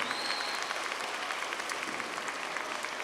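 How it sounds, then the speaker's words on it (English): Sustained applause from a high school commencement audience honoring graduates' parents, dense steady clapping throughout with a faint crowd murmur. "can you look at the audience and just give a huge round of applause"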